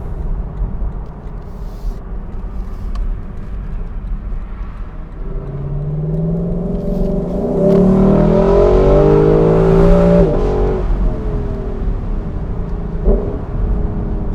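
A 2021 Lexus LC 500 Convertible V8 in Sport Plus mode on a night drive accelerates hard, the engine note climbing through rising harmonic sweeps to a loud peak, then easing back to a steady drone.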